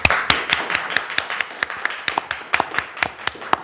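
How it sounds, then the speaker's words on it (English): A small group claps steadily and close by at a school board meeting, a few seconds of brisk overlapping hand claps with no talking. "giving them a strong round of applause"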